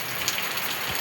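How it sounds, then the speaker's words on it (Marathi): Rain falls steadily in Konkan in May's first monsoon shower, a close, even wash of drops pattering on surfaces with an occasional sharper drip, no voices. "खूप मस्त पाऊस पडून गेला"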